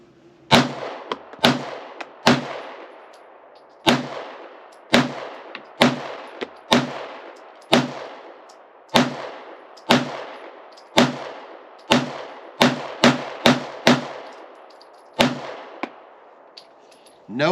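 Shadow Systems MR920 Elite pistol emptying a 17-round OEM Glock magazine, about twenty sharp, loud shots fired alone in an uneven steady rhythm, each crack leaving a short ringing decay, with a few quick doubles near the end.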